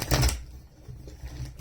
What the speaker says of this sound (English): Definitely make the damn cards a shuffle. One more shuffle.